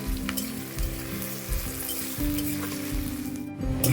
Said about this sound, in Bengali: নাড়াচাড়া করে আমি ভেজে নেব